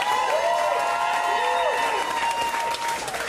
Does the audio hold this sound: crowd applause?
yes